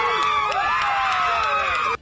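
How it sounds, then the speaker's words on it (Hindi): A crowd gathered outside a courthouse after the George Floyd verdict cheers and whoops loudly, with high, excited voices rising and overlapping and some clapping mixed in, steady and close until it cuts off abruptly at the end. "अदालत के बाहर जमा हुई लोगों की भीड़ तालियां बजाकर और एक दूसरे से गले मिलकर जॉर्ज फ्लॉयड को मिले"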